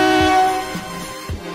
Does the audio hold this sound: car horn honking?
yes